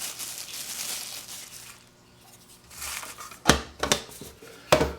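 A kitchen knife is pulled from a bubble wrap sleeve, with soft crinkling and rustling plastic early on, a brief lull, then several sharp, close crackling crunches in quick bursts.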